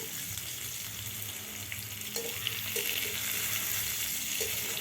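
Pointed gourd fries in a pan with hot oil, giving a steady close sizzle throughout with a few stirring scrapes and no talking.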